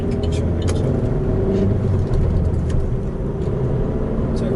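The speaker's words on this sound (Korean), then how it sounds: "기어 변속할 때 이제 제가 좀 클러치를 떼는 부분에 이제 신경을 써가지고 변속을 했는데" A manual-transmission car driven through a gear change with a carefully released clutch, a steady close engine hum and road rumble inside the cabin, carried under continuous talk.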